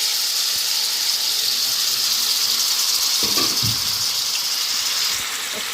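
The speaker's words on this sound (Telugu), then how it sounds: "ఇప్పుడు ప్రాన్స్ వేసి ఫ్రై చేసేస్తాను" Prawns frying in hot oil in a pan give a steady, loud sizzling hiss throughout, with a few brief clinks and soft knocks from the pan partway through.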